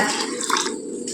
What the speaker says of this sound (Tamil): 1/4 கப் தண்ணி சேர்த்துக்கோங்க.